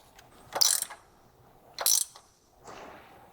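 A ratchet wrench bolting a winch back onto a PWC winch arm, two short bursts of rapid metallic clicking a second apart followed by a fainter third turn, close and otherwise quiet.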